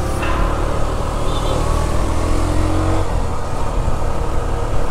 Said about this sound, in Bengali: আমি খুব বেশি রেপ করছি না, কারণ নতুন বাইক, ব্র্যান্ড নিউ বাইক